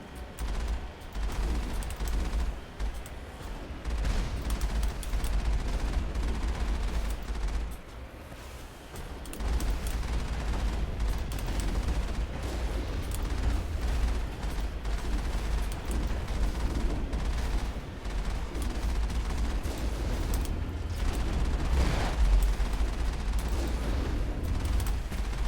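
Sustained gunfire and blasts in the video game Mass Effect, a dense, loud barrage of shots and rumbling impacts running almost continuously, with a short lull partway through.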